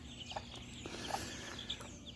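Chickens clucking in a farmyard where they roam free all day, soft scattered calls and short clucks at moderate distance over a steady outdoor background, with no talking.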